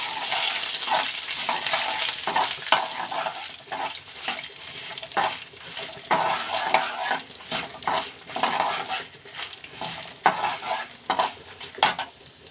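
Dried red chillies and urad dal fry in a pan, giving a continuous bright sizzle with frequent scraping and stirring clicks from a utensil, and no talking.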